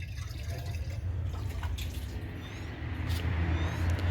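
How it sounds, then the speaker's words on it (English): Water is poured by hand into an Eago toilet bowl, a soft continuous splashing and trickling that grows fuller and louder toward the end, close by with no speech. "So let's add some water to the bowl"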